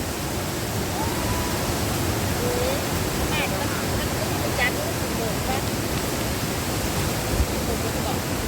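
Waterfall at Tham Phra in Seka, Bueng Kan, roaring as a steady, broad rush of falling water that fills the whole scene at close range, with faint voices barely audible beneath it.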